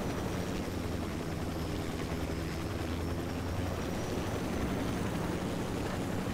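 A helicopter in the video game Ghost Recon Wildlands gives off a steady, even rotor drone and engine rumble, holding constant throughout with no voices.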